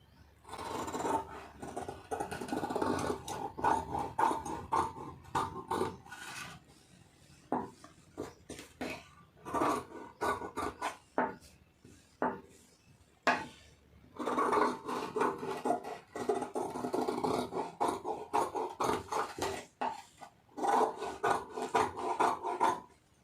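Scissors cut blouse fabric in repeated rasping snips and rubbing scrapes, close and quiet, in bursts separated by short pauses.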